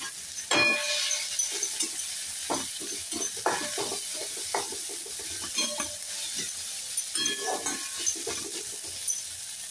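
Garlic frying in a pan while cooking palak paneer, a close crackling sizzle broken by repeated spatula scrapes and stirring knocks in an uneven rhythm throughout.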